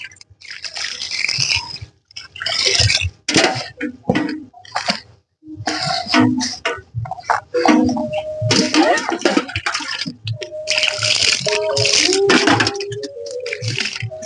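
Water splashes and pours into an organic fertilizer mix for a rooftop garden, arriving in repeated bursts with pauses, along with coughing, throat clearing and some handling clatter nearby.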